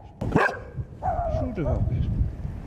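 Abandoned dogs bark in a shelled, nearly deserted town, with a few short barks and yips heard close by under a narrator's speech.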